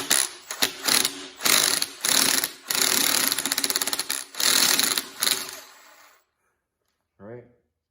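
A ratchet wrench clicks rapidly in several loud bursts while a bolt is backed out on a car under transmission work, brief pauses between runs, then silence and a short final click.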